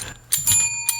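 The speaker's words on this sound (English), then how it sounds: "Going to manually ring the bell." A small hand-rung bell chimes twice with bright, sustained metallic ringing tones, close and clear, the second strike following shortly after the first.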